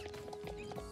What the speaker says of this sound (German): Wir reiten einfach mal zuerst zur Starshine Range.